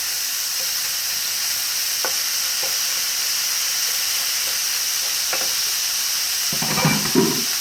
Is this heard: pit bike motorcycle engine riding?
no